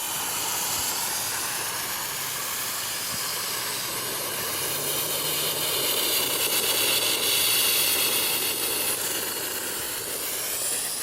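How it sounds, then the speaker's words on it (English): Compressed air forced through 4-inch plastic pop-up irrigation rotor sprinklers with low angle nozzles during car wash system winterizing, a loud continuous roaring hiss that swells slightly midway, close by, with no speech. "But they're loud when it's just air being forced through them."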